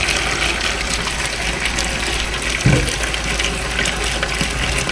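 Water gushes steadily from a tap or hose into a container of horse feed to soak it, a continuous close rushing pour with one brief knock partway through and no talking.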